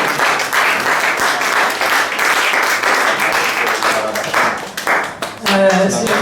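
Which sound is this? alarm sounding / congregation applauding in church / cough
congregation applauding in church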